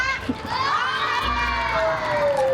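Group of children shouting and cheering together at close range, a dense, excited burst of high voices with a rising and falling wail running through it.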